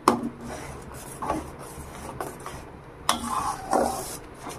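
A spoon stirs palm pulp mixture in a cooking pot with scraping, rubbing strokes against the pot, a few sharp knocks and soft sloshing, close up and without talk.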